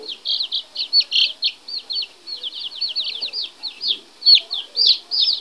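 Sasso chicks chirp in a rapid, high, close series of peeps and soft clucks that overlap continuously, with no other sounds.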